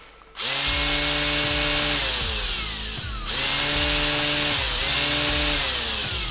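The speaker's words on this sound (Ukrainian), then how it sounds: "Дуже тихесенько у нас працює акумуляторний трімер." A Procraft PTA24 cordless battery string trimmer starts up and runs close to the microphone, its motor whine rising and falling in pitch through several throttle cycles. No voices are heard.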